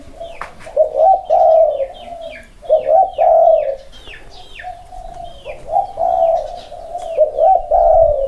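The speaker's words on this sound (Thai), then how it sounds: "ครับเสียงมันนะครับ เสียงเจ้าคู่ไหล ครับเสียงดีน้ตัวนี้" A spotted dove coos nearby in repeated soft, rhythmic phrases, with faint chirps from other birds in the background.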